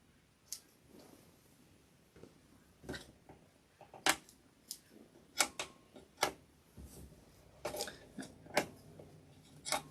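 Small snips of scissors cutting loose sewing threads off the back of a charm-square scrappy bag, irregular quiet clicks and snaps over faint background.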